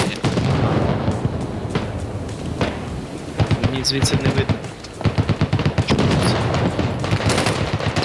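Bursts of rapid gunfire and sharp shots crackle repeatedly in the video game Squad, with a voice talking in Ukrainian over the action.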